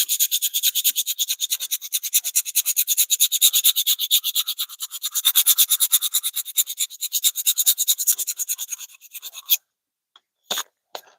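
Coarse 60 grit sandpaper rasps across wood in fast, rhythmic back-and-forth strokes, close and loud for about nine seconds, followed by a pause and a few last short scrapes.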